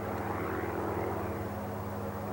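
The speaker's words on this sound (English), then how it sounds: "Later in the afternoon, the observation plane is airborne for the last search." A propeller-driven observation plane in flight over parched bush country, a steady droning engine hum with a low harmonic buzz, constant and moderately loud with no speech.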